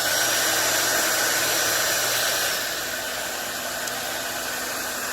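Handheld hair dryer blowing steadily on its cool setting, a loud continuous broadband whoosh with a constant motor hum that drops slightly in level midway and then holds steady, with no talking.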